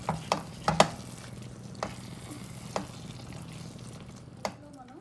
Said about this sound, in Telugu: వేసుకొని ఇలా బాగా కలుపుకోవాలి.